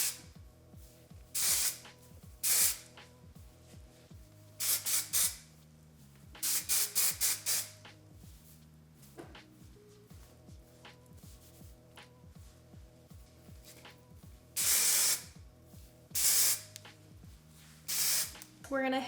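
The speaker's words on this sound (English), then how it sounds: "I'm gonna use a little texture spray." Color Wow Style on Steroids texture spray hissing onto short hair in sharp bursts, some single and some in quick clusters, spaced across the passage while someone talks softly underneath.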